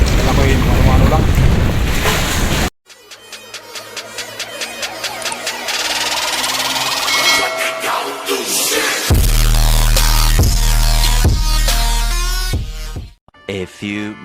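Strong wind buffets a small fishing boat at sea in rough weather during hand line fishing, a loud steady roar of wind noise on the microphone with a boat engine droning underneath in stretches and a voice talking over it.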